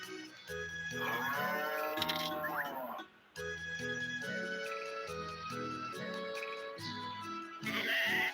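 Cattle and livestock calls in the Harvest Moon: The Tale of Two Towns video game, several drawn-out moos and bleats over a steady tinkling game melody, no voices.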